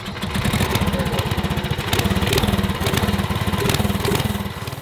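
A small pull-start MBK1 mini bike engine runs steadily during a first test ride, its rapid buzzing putter loud and close, with slight rises and dips in speed and no talking.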